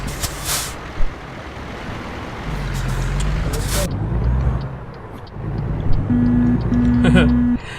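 A deep truck horn in American Truck Simulator blares in two short blasts near the end, over a low rumbling engine and a hiss of air brakes.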